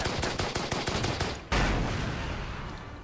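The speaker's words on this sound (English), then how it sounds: "I do love that gun on the Panzer 2" Rapid bursts of gunfire from a Panzer II tank gun in the WW2 strategy game Order of Battle, a quick string of sharp shots followed by a single heavy blast whose loud rumble slowly fades.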